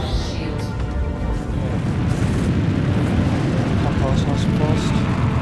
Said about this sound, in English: Okay, that's a lot of missiles.